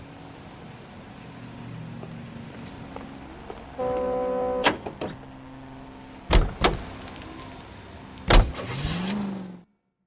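Car sounds in L.A. Noire: a low engine hum under scattered clicks and a few sharp thumps like doors closing, with a whining tone near the end before everything cuts to silence.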